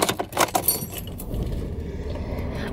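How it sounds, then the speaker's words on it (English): A bunch of keys jangles loudly in a few quick metallic rattles at the start, then fades into a low steady rumble. "Let me get my keys."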